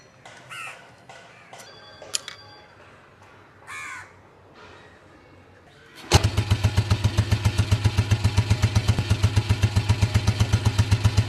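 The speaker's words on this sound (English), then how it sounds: "this BMW starts with one tap." A vintage BMW R26 single-cylinder motorcycle fires up on a single kick after a few faint crows cawing in the background, then settles into a steady, rapid idle thump close by.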